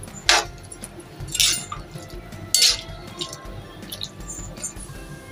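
Cluster bean curry stirred in a pan on the stove, three distinct scraping clinks of a spoon against metal spaced about a second apart, close, over a low background hiss with no speech.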